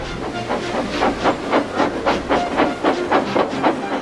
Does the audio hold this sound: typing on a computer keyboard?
no